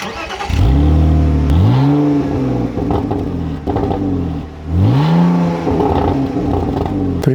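A Mazda MX-5 engine is started with the key: a short crank catches into a loud, close rev that settles to idle, then a second rising rev and fall, with no talking.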